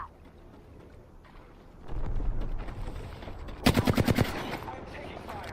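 Gunfire in a video game: a rapid automatic burst of about eight sharp, loud shots cuts through a rumbling background, following a dull heavier bang a couple of seconds earlier.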